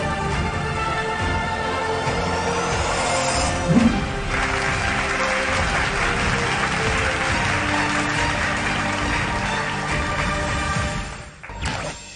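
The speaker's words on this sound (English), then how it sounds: "Please give him a big round of applause." Clapping from the audience at an award felicitation ceremony fills the room as a continuous broad patter under music, with a brief thump partway through, then fades out near the end.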